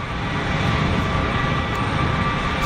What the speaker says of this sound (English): Got something on a long final at the moment. Austrian registered EasyJet here.